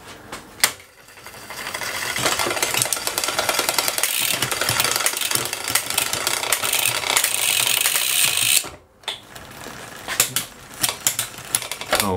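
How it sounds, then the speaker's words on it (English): The chain of a 3x12 triple bicycle drivetrain scrapes and rattles against the front derailleur cage in a fast, continuous ticking grind, close and loud, before briefly stopping and resuming in bursts. "I'm going to get rubbing on the derailleur cage on the small combinations."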